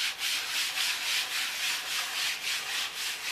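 Fine 320-grit sandpaper rubbing back and forth over a wooden furniture rack before painting, a steady rhythmic hiss of strokes at close range with no talking.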